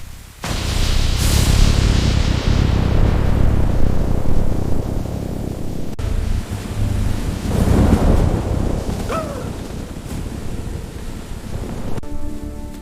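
Stormy wind roars steadily in an animated cartoon, a loud broadband rush that swells and eases in gusts, with a brief faint chirp near the end and no voices.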